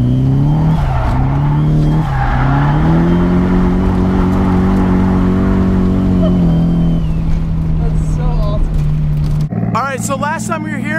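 A drift car spins donuts at a drifting track, its engine holding a steady loud drone with tires squealing and skidding through the loops, while people talk nearby.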